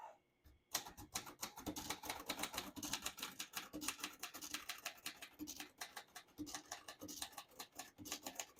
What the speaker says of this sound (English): I'm just going to type a sentence in red